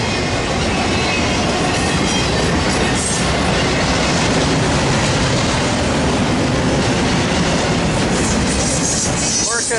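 A freight train with stack cars carrying JB Hunt containers rolls past at close range at Daggett, a loud, steady roar of wheels and rail clatter with occasional squeals that never lets up.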